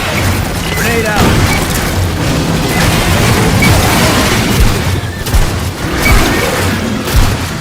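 Grenade explosions and heavy gunfire in the video game Aliens: Fireteam Elite, loud booming blasts and rattling bursts packed densely together, with a voice speaking over the battle.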